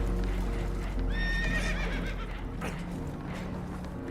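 Spooked horses whinny and neigh in a Red Dead Redemption 2 river scene aboard a damaged boat taking on water, several high shrill calls overlapping over steady rushing water and low rumble, with hoof clatter mixed in.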